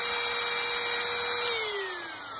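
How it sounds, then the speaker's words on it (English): A Dremel rotary tool sharpening a chainsaw chain makes a loud, steady high-pitched motor whine. Partway through, the pitch drops gradually as the grinding stone bears down on a cutter. "we'll just pretty much go throughout the whole chain, alternating back and forth like so, sharpening them"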